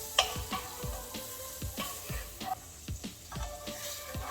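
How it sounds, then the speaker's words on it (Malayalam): Butter melts and sizzles in a pan for kappalandi muttayi, a soft steady frying hiss broken by repeated rhythmic ticks and scrapes of stirring. "ബട്ടർ ഇട്ട് ബട്ടർ നല്ലപോലെ മെൽറ്റ് ആകട്ടെ"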